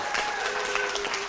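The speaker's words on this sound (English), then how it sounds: "You can applaud now if you'd like." An audience at an Ohio Senate debate breaks into applause, a dense steady patter of clapping that carries the whole moment, with a faint voice mixed in.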